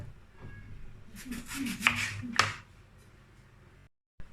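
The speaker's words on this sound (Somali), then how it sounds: "marka hadda basal caleen aan googoonayaa" A kitchen knife chops green onions on a board for a cucumber and tomato salad. A quick cluster of crisp, fairly quiet cuts is followed by a couple of louder strikes, then stillness.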